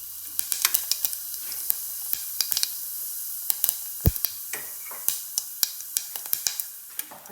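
Mustard seeds and cumin sizzle in hot oil while a bottle gourd sabzi is cooked, a steady close frying hiss dotted with sharp pops and crackles, including one louder spit.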